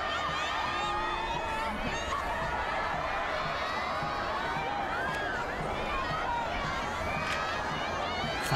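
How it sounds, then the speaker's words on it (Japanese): A large outdoor crowd roars and cheers continuously at a victory parade for figure skater Yuzuru Hanyu riding on a truck bed, a dense and sustained wash of voices, with a commentator talking over it. "大きな歓声が今羽生選手に送られています"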